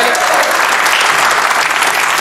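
A loud, dense burst of studio audience applause on a French television game show, steady and continuous from start to finish.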